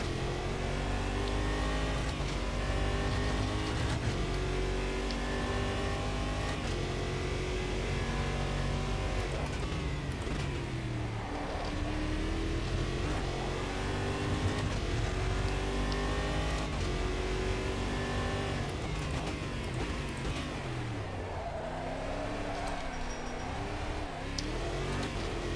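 Race car lapping Donington in the Automobilista 2 racing game, its engine roaring steadily and loud throughout with rising and falling revs through gear changes, with a slight tire squeal as the tail slides.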